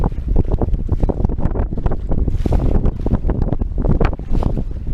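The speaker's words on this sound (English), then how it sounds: "you can hear the waves," A sailboat leaving Ballina Bay under sail, heading toward Puntarenas, Costa Rica, cuts through sea waves with a steady churning rush of water and heavy wind buffeting the microphone throughout, loud and close, with no talking.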